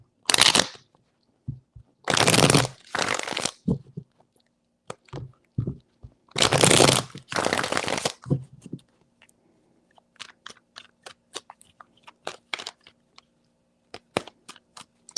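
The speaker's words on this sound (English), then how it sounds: "Three shuffles." Tarot cards are shuffled in three crisp riffling bursts, followed by scattered light clicks and taps as cards are handled and laid down.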